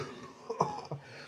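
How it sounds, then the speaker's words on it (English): A persistent cough from a person recovering from coronavirus, two short harsh coughs close to the mic over quiet room noise. "I'm getting over the coronavirus, but it's still a bit of a persistent cough there."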